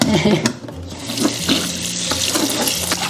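Parboiled meat, first boiled with ginger, scallion and cooking wine, is rinsed under a running kitchen tap. Steady, close splashing water with light clatter from handling the pieces, and no voices.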